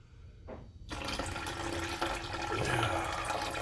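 Cloudy water poured out of a gold pan, a soft splash giving way to a steady rushing pour that continues to the end, fairly faint and with no voices.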